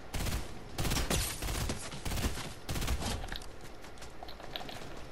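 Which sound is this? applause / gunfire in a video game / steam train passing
gunfire in a video game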